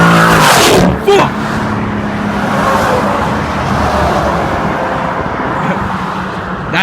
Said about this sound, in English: That's a Mustang.